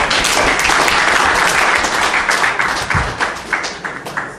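Loud, dense applause from a large crowd at a GFA football competition launch event, steady throughout and thinning slightly toward the end.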